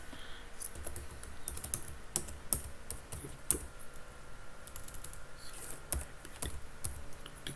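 Steady computer-keyboard typing while code is entered, with quick irregular clicks and occasional louder key strikes, close and alone with no voice.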